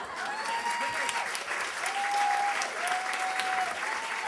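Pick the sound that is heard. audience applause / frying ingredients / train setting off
audience applause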